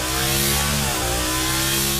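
A Bugatti V16 naturally aspirated engine revs in a dense, loud, continuous roar, its harmonic pitch dipping briefly then climbing again over about two seconds.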